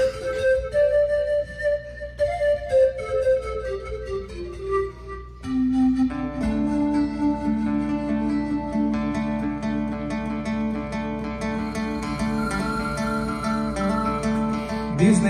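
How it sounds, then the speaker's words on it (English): Andean zampoña panpipes played in a live concert, breathy tones in a stepping melody that grow into a fuller, louder ensemble texture with steady sustained notes after the opening bars. "And this is the sound of the zampoñas."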